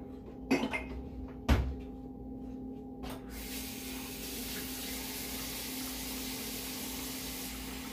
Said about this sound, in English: And then 2/3 cups of water.